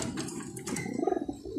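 Pigeons cooing in a backyard loft, a short run of soft low coos rising in the second half, fairly close, with bird chatter and no talk.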